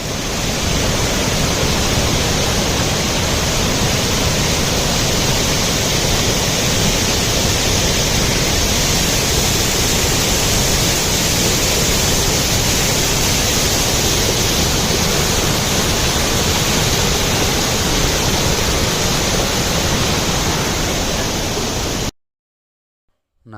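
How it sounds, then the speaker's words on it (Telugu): Abbi waterfall in Karnataka roars loudly and constantly, a dense, close wall of rushing, crashing water that fills the whole stretch before cutting off abruptly near the end. "ఆ నీటి శబ్దం చాలా హెవీగా ఉంది."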